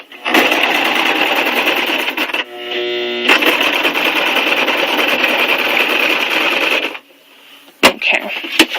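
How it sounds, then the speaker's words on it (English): A sewing machine runs steadily under pedal pressure, making a loud, fast mechanical whir that pauses briefly once, resumes, then stops, leaving a few quiet clicks. "just, try and give your pedal easy pressure and hold your thread"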